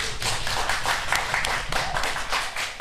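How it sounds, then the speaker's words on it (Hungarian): Applause from an audience for Budapest mayoral candidate Kerpel-Fróniusz Gábor at a 2019 primary election debate, a dense steady clapping that runs loud and even throughout without a break. "A Taps Kerpel Frónius Gábornak, a Momentum főpolgármester jelöltjének szólt."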